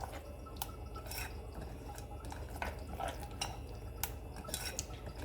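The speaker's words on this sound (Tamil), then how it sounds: "இப்போது எல்லாத்தையும் நல்லா மிக்ஸ் பண்ணிக்கோங்க." A spoon stirs ragi dosa batter mixed with pepper, curry leaves and salt in a bowl, giving soft wet scrapes and occasional metallic clinks over a low steady background, with no talk.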